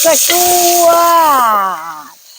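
Pork and luffa gourd with fresh chilli stir-frying in a pan, a steady hissing sizzle running under a voice whose long sustained tones fade out near the end.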